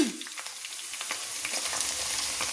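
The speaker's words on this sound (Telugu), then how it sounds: "ఇప్పుడు మధ్యలో కొంచెం నూనె పక్కకు అనేసి ఉల్లిపాయ ముక్కలు కూడా వేస్తే" Chopped onion pieces hit hot oil alongside bitter gourd in a pan, breaking into a loud, steady close sizzle with crackling pops and a stir at the start, no voices over it.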